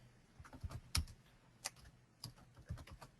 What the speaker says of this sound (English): Whoops, excuse my typing.